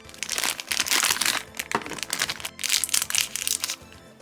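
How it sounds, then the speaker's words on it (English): Plastic packaging crinkling and crackling as a round Kirby figure from a Kirby in Dream Land set is pulled free, dense close rustling bursts with a brief pause midway. "Get this guy out of his plastic."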